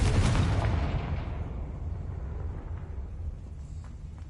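A Confringo fire spell blasts in Hogwarts Legacy, a loud booming burst at the start that rumbles and fades over a few seconds, heard alone.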